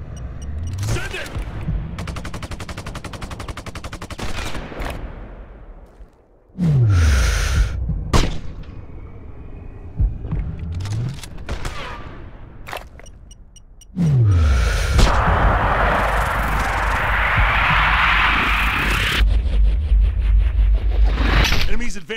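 Loud gunfire bursts from the PC game Sniper: Ghost Warrior 2 crack in clusters, with booming shots, rattling automatic fire and dense battle noise building toward the end, while voices talk over the action.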